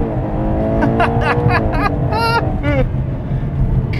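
A Ferrari Purosangue SUV's V12 engine and exhaust drone steadily, with a higher wavering tone over it, heard close from inside the car.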